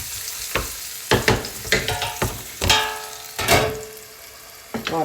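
Onion frying in a pan, steady sizzle close by, broken by a series of sharp clattering stirs and scrapes at uneven intervals.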